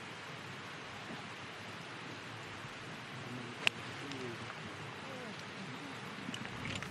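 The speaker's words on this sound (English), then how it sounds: "And it's really bucketing here on 13 for Yoo Hyun Jo." Heavy rain falling on a golf course during a women's professional tournament, a steady hiss of downpour throughout with one brief sharp tap.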